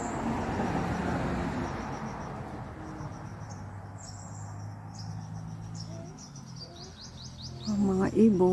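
Birds chirp and tweet outdoors near a yard with a guava tree, with high repeated calls over steady insect and cricket buzz, and a louder, closer bird call near the end.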